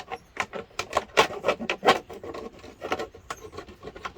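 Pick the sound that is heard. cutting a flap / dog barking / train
cutting a flap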